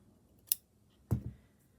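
Scissors snip through DMC crochet cotton thread at a knot: one faint click, then a single crisp cut close by in a quiet room.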